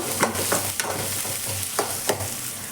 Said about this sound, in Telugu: అవి మొత్తం వేసుకొని సిమ్లో పెట్టుకొని ఇలా వేగనివ్వండి